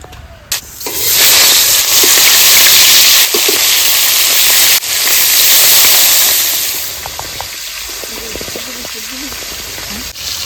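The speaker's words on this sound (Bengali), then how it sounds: "কড়াই গরম হয়ে গেছে সর্ষের তেল দিয়ে দেবো" Mustard oil hitting a hot wok, a loud close hiss and sizzle that swells then fades into softer crackling, with a voice speaking briefly toward the end.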